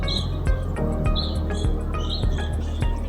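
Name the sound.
birds chirping at bird feeders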